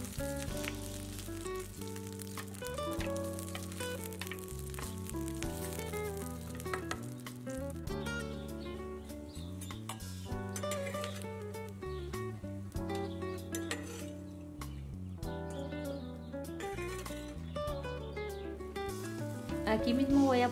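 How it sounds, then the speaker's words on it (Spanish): Olive oil and food fry steadily in a pan, with a continuous soft sizzle sitting under a louder layer of rhythmic background music throughout. "Vamos a esperar a que esto se vaya friendo muy bien, a que quede doradito, pero que no se nos vaya a quemar."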